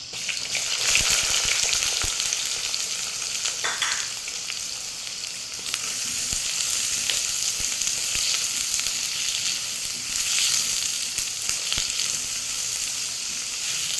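Onions sizzle hard in hot oil right after mustard seeds have popped, cooking for a green field bean and brinjal stir-fry; a loud, continuous close-up crackle with occasional stirring scrapes.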